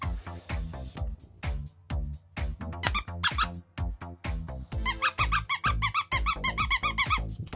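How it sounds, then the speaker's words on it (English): A squeaky dog toy squeezed over and over by a French bulldog puppy, producing rapid, uneven bursts of sharp, high squeals, close and loud with no talking. "Want me to squeak it?"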